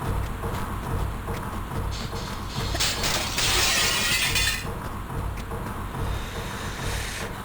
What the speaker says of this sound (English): I hate to see the repair bill on all those windows we're smashing.